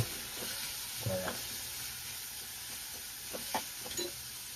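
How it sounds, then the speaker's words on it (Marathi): Onion and tomato being stirred and mixed in a frying pan, with soft scraping strokes scattered through a steady low sizzle; close, moderate level, no talk. "आता चालेल हे हलवून मिक्स करा"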